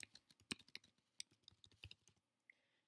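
Rapid, uneven clatter of typing on a computer keyboard as a new comment is entered in home inspection software, near and crisp, stopping abruptly into near silence.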